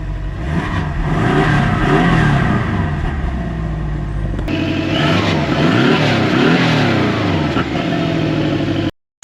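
Porsche Boxster engine revving up and settling back, a loud close mechanical roar with rising and falling pitch sweeps over a steady idle, continuing for several seconds before cutting off.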